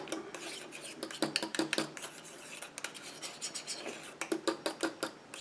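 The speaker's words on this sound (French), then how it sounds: "Et je viens mélanger" A mixture containing biotin is stirred in a container, with close, repeated scraping and clinking strokes in an uneven rhythm and no voices.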